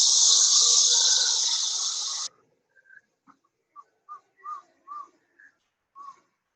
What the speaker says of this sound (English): You hear the howler monkeys rolling, and then the birds start